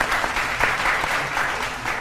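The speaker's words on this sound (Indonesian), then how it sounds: "tepuk tangan dulu untuk dua tim." Studio audience applause for two competing teams on an Indonesian TV quiz show, a steady dense wash of clapping throughout, loud and close, with no voices over it.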